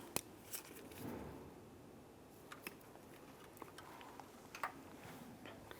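A red wire with a white stripe is cut during a mirror wiring install on a 2007-2013 Chevrolet Silverado 1500. A few faint, sharp snips and clicks sound in a quiet setting.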